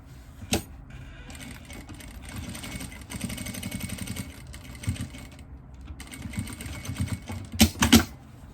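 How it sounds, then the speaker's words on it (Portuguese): Sewing machine topstitching a heart-shaped jewelry box, running in steady bursts of rapid stitching with short pauses, close and moderately loud, ending with a few sharper mechanical clicks. "Nós vamos fazer o pesponto nessa parte."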